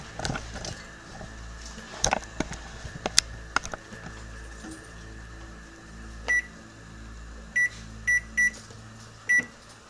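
Clicks and taps of buttons being pressed on a kitchen timer, then a series of short electronic beeps, a few spaced singly and a quick run together, in a quiet room.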